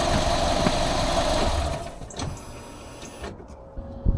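A Fiat 500 engine runs with a steady, loud mechanical drone and belt whir, then cuts off near the end, leaving near silence.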